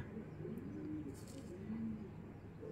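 Racing pigeons coo in soft, repeated low murmurs, close by over a steady background hum.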